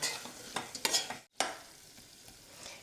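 Capsicum stir-fried in an open pan for a Chinese-style chapati filling, giving a steady sizzle with bursts of scraping and stirring, a brief silent gap midway, then continued softer frying, close and without talk.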